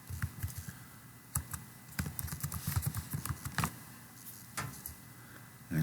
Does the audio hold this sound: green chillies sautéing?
no